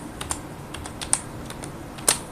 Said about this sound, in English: So here I am going to type a formula